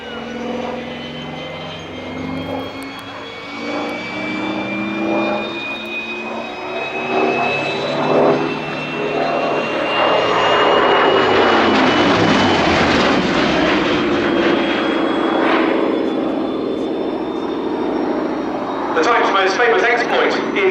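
A Hawker Fury II / Sea Fury piston fighter, SR661 G-CBEL, flies past at the Shuttleworth Fly Navy Airshow 2017, its engine a loud sustained drone rising and falling in pitch as it passes, with a commentator talking over it.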